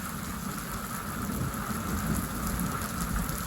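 A tropical-style downpour during a stormy-season thunderstorm, dense steady rain hammering down close by with a continuous roar and low thunder rumbling underneath, with no voices.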